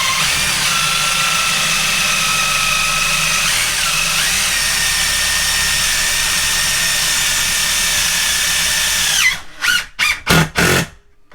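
A power drill drives screws through Hardie backer board into wood framing in a shower. The motor whines loudly and steadily for about nine seconds, then gives several short, choppy bursts as the screw seats.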